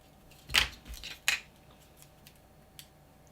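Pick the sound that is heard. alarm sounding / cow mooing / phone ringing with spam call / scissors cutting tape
scissors cutting tape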